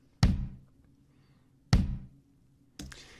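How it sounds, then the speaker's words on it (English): Sparse electronic kick drum from the Drumbit step sequencer, playing a deep thud on beats 1 and 3. Two clear, evenly spaced hits ring out alone in near silence, with the start of a third at the end. "Everything that's in this row is got a kick drum sound, and this is on beat 1, and this is on beat 3."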